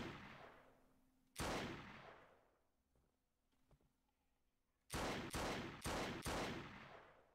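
Gunshots in the Unity zombie shooter Red Measures: an isolated heavy shot with a long reverberant decay, then a quick series of four close, loud blasts, each ringing out over quiet ambience.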